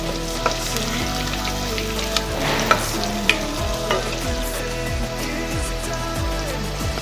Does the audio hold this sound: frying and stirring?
yes